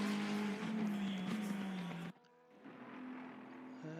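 Engine drone of a race car at Bathurst in Assetto Corsa Competizione, loud and steady as it runs down the straight, then cutting abruptly to a quieter, thinner engine hum for the rest.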